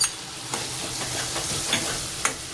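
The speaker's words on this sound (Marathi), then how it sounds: "तर मसाल्याला छान एक 2 मिनटं हाय फ्लेमवरती फ्राय करते आणि लगेचच टोमॅटोसुद्धा ॲड करते." Ground masala paste and tomato fry on high flame in a pan, a steady close sizzle broken by a few sharp spoon scrapes as it is stirred.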